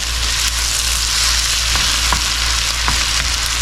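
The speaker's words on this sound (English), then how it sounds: "next I'm adding in my garlic, my minced garlic. I'm going to stir that around for just a minute" Minced garlic sizzles loudly and steadily in a hot pan, with a few faint scrapes of a stirring utensil cutting through the constant close frying hiss.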